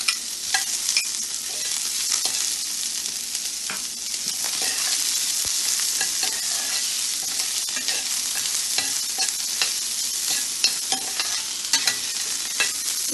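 Onions saute in a pan with curry leaves for poha, giving a close, bright sizzle with frequent stirring scrapes and clinks of a spoon against the pan, continuous and free of talk.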